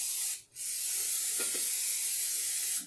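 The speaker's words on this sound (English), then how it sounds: "Spray that cake mix really good" Cooking spray sprayed into a bunny-shaped cake pan, a loud continuous hiss that cuts out briefly near the start and then resumes, steady and close.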